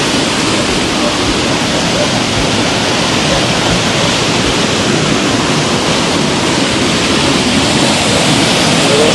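Loud, constant rushing of a heavy, swollen river after rain, a dense roar with no breaks, close by and filling the whole scene.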